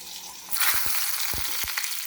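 Fenugreek and mustard seeds hit hot oil, and a sudden loud sizzle swells and holds, with a few soft low thumps and pops beneath it.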